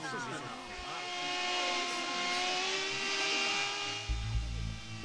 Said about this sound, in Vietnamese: Máy bay không người lái cứ thế là bay đi à?